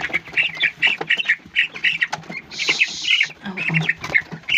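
A chicken squawks loudly and repeatedly while being weighed on a scale in a poultry-raising setting, harsh calls recurring in bursts throughout with a brief shrill flurry in the middle.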